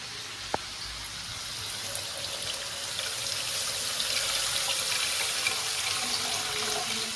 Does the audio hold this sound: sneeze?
no